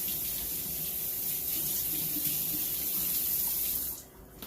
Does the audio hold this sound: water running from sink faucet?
yes